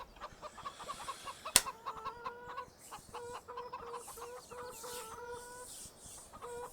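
Chickens clucking on a farm in the video game Farming Simulator 17, a steady flock of repeated short clucks with a sharp click partway through, fairly quiet and without talk.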